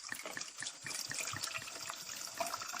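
Sherry pours into a 10-ounce glass holding one ice cube, making a soft, close liquid trickle and splash that runs steadily for a few seconds.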